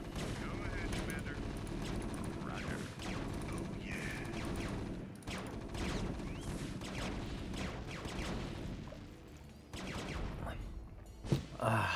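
StarCraft: Remastered units firing in battle, with repeated bursts of rapid weapon fire and clattering impacts over a steady din, plus a sharp spike near the end; a voice talks over much of it.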